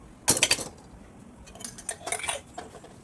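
A metal spoon clinking against an iron kadhai while ghee is added, a quick cluster of bright clinks followed by a second softer run of taps, close and alone.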